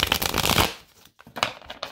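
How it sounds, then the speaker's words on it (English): Tarot cards are shuffled up close: a loud papery riffle, a brief pause, then a second quicker burst of shuffling. "Going to shuffle 3 times on camera."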